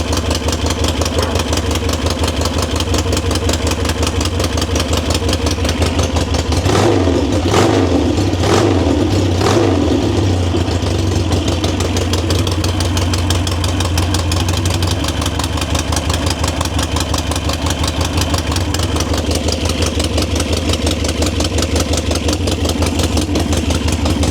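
A motorcycle engine idles in a shop as its gas runs low, a loud, continuous close rumble with a few quick throttle blips in the middle before it settles back into a steady idle.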